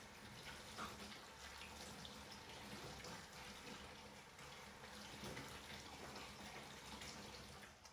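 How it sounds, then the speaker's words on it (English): Tap water runs steadily into a kitchen sink as beans are rinsed, a continuous splashing hiss that holds at an even level throughout with no talking. "I'm just going to give the beans a solid rinse."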